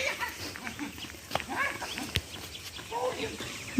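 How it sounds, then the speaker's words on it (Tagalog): Goats tended by a herder on a rural farm bleat faintly at a distance, several short wavering calls spread over a few seconds above a steady outdoor background hiss. "Kambing nila."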